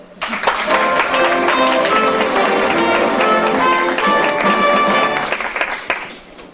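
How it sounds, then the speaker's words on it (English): A theatre audience at a stage production of The Mystery of Edwin Drood applauds a performer: dense, close clapping rises quickly, holds strong for several seconds over faint music, then thins out toward the end. "a warm round of applause for tonight's guest artiste and London's leading man impersonator, Miss Alice Nutting"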